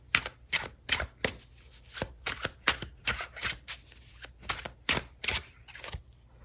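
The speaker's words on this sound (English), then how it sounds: "Let's pull some tarot cards and get some details here" Tarot cards shuffled by hand, a run of crisp, riffling flicks and soft slaps in quick uneven bursts, close and fairly quiet with no talk.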